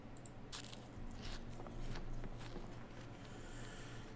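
A character eating food in the Project Zomboid video game gives a few crunchy biting and chewing bursts over a steady low game hum, with no talk.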